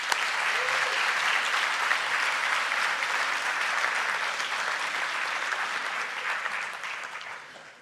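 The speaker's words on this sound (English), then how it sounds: "They now deserve a round of applause." A graduation ceremony audience applauds the graduates, dense sustained clapping from a full hall that holds steady for several seconds before gradually fading out.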